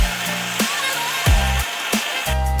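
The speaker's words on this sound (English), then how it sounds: "Now we cut the pipe." An electric cutting tool saws through a pipe on a cruiser, running in several loud bursts of about half a second each, separated by short pauses.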